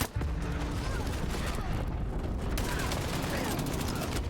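Dense, continuous gunfire from the online shooter Dirty Bomb rattles without pause, rapid bursts layered over a busy game mix, with a voice partly underneath.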